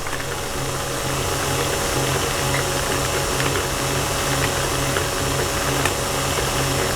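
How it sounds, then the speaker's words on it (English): A mixer runs continuously in a kitchen while burgers are prepared, a loud steady mechanical whir with a rhythmic ratcheting, gear-like rattle and a low hum, close by and with no speech. "I'm going to show you what we're looking like over here as far as what's going on with the mixer"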